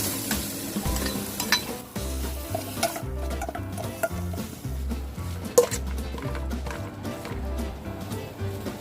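A thick pounded Thai curry paste sizzles in hot oil while a utensil scrapes and stirs around the pot, with soft background music playing underneath.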